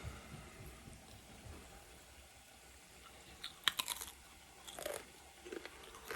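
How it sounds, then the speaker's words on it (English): Crunching potato chips being bitten and chewed close by, a few sharp crisp crunches in short bursts over a quiet background with a faint low hum. "Do you hear that crunch?"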